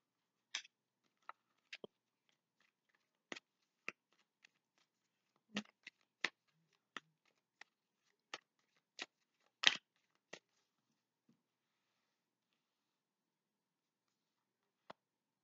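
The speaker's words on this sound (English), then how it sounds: "I'm gonna shuffle more." Tarot cards being shuffled in a quiet room: a sparse series of short, crisp riffles and snaps spaced irregularly over about ten seconds, then one final isolated flick after a pause.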